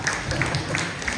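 Brief, steady clapping from a church congregation during an anniversary preaching service, a dense even patter lasting about a second.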